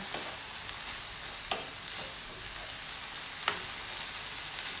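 Rosemary and sausage fry in a pan with a steady, close hiss, broken now and then by a few sharp utensil clicks.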